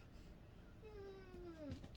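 A cat gives one faint, drawn-out meow that rises and then falls away indoors, close to the end of a quiet stretch.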